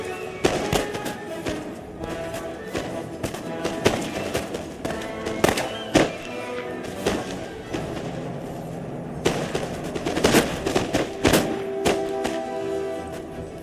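Musket volleys in the video game Total War: Empire, with an English line infantry regiment firing; repeated sharp cracks and thumps pop irregularly over a dense battle din, some shots close and loud, others scattered further off.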